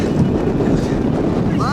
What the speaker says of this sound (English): The wind and cold coming from the glacier is brutal.